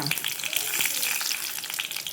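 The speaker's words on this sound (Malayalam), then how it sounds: "നീളമുളക് നമുക്കിട്ട് വറുത്തെടുക്കാം കേട്ടോ." Long red chillies fry in hot oil with fenugreek and mustard seeds for a Kerala mango pulissery tempering, a close, steady crackling sizzle with dense spitting pops throughout, no talk.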